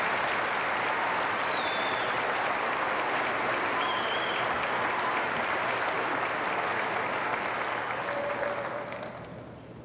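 A crowd at a 1997 high school graduation ceremony applauds students, a sustained, loud wash of clapping with a few faint whistles, tapering off at the very end.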